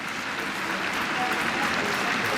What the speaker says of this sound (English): enthusiastic, warm applause from the spectators who turned up today